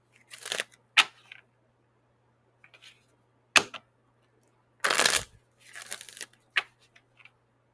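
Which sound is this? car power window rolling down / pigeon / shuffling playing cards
shuffling playing cards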